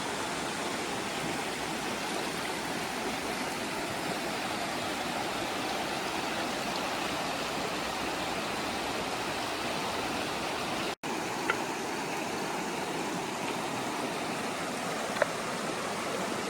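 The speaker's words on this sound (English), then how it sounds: "Look at this river, man." A river flows steadily outdoors, a broad continuous rush of water that stays loud and even throughout with no voices over it.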